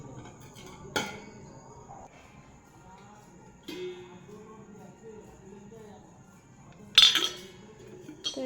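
A large pot, big strainers and juice-serving utensils clink as they are handled in a quiet room, three distinct metallic knocks spaced a few seconds apart, the last one loudest, with faint background sounds between.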